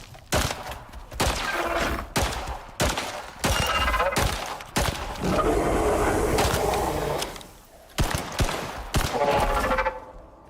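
Gunfire in the Icarus survival game comes as a string of sharp, loud shots in uneven bursts, some clipped and rapid, over rumbling ambient noise with a voice talking intermittently.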